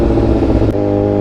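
A motorcycle engine runs up close on a ride in Pangasinan, a loud, steady mechanical drone whose tone shifts partway through the short burst.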